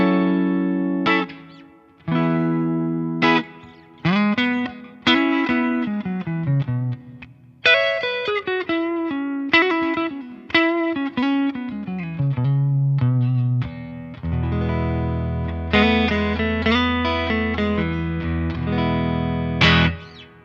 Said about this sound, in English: this is the clean tone that naturally presets for the 65 Princ Reverb